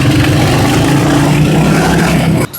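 A Royal Enfield Hunter 350 motorcycle engine runs loud and close with a steady low thumping rumble and harmonic drone, then cuts off abruptly near the end.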